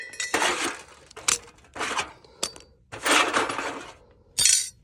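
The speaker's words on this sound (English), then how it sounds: "Get your oil pan, put it underneath, and unscrew it." Metal clanks and rattles as an oil drain pan and tools are shuffled under a classic car during an oil change, loud close bursts of clinking and scraping separated by short quiet gaps.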